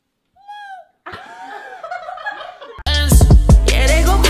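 A person imitates a baby goat with a short, high, wavering bleat, followed by livelier vocal bleating sounds before a loud burst of other noise cuts in at the end.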